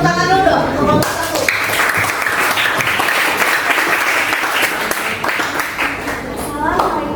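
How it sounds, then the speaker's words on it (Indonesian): An audience claps for the first student group in a classroom, dense continuous applause lasting the whole stretch, fairly loud and close, with voices mixed in. "kita beri ke tepuk tangan dulu dong untuk kelompok 1"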